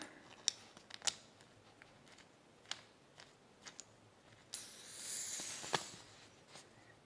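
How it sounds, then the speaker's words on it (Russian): An inflatable antenna deflates through its valve, giving a faint, short rush of hissing air lasting about a second, set among quiet scattered clicks and handling ticks in an otherwise hushed room. "соответственно, антенна сдувается"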